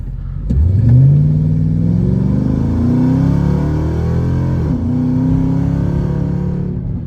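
A Chrysler 300 fitted with new Koni shocks accelerates hard, its engine revving loud and close in a long rising pull, with a brief gear-change dip partway through before climbing again.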